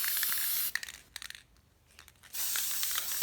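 An aerosol spray can hisses while painting a pinewood derby car, a loud steady burst that stops, gives way to a few small clicks and rattles, then resumes.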